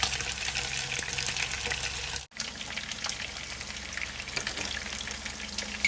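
A pot of chicken curry with carrots and potatoes in coconut milk bubbles and sizzles steadily up close, with a brief dropout partway through and no talking.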